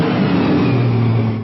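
A red sports car's engine drones loud and close in a steady, even run before cutting off abruptly.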